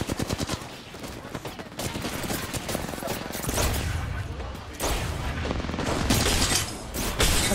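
A grenade explosion and rapid gunfire in a video game, with dense bursts of shots and booming impacts running continuously and loudly, close and busy throughout.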